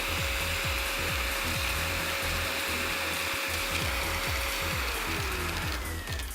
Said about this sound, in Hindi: लेकिन भारी भारी कॉइन्स भी ये सक कर लेता है विद द 800 वॉट मोटर।